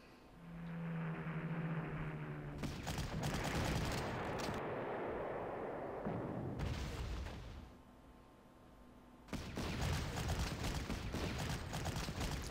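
In the Panzer Corps war strategy game, anti-aircraft cannon fire and explosions come in dense rumbling bursts, with a short quieter gap before another loud volley.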